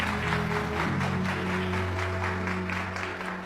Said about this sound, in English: Y'all should clap her